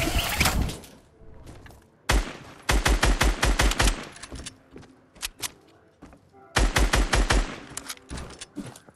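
Automatic gunfire in Fortnite hits player-built structures in rapid, loud bursts of repeated shots, with pauses and scattered single impacts between volleys.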